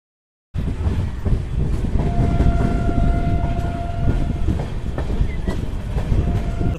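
Tirupati–Secunderabad bi-weekly superfast express with LHB coaches rolls into Dharmavaram Junction, a loud continuous rumble and clatter of wheels on rails with a sustained horn tone sounding through the middle, no voices.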